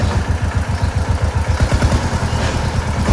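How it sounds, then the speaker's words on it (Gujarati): A farm tractor's diesel engine runs loudly and close, a steady rapid low chugging throb with clattering mechanical rattle and no voices. "ચાલો આપણે લગાડી દઈએ ટ્રેક્ટર."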